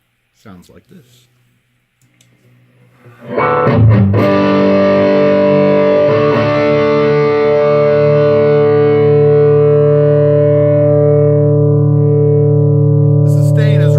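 Electric guitar driven through a Pink 1981 Inventions DRV overdrive pedal on its first setting; a couple of faint taps, then one loud, distorted chord that sustains and rings out for about ten seconds.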